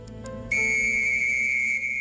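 A sharp, shrill First World War trench whistle blast starts suddenly and holds one piercing, steady tone for over a second before stopping.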